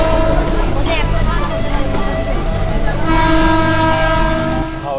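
Passenger train running on the way to Howrah, a loud close rumble of wheels and carriage with horn-like tonal blasts sounding through, steady throughout and easing slightly at the end.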